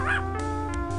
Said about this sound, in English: if you click on Pep for the most part, he'll just poke out to bark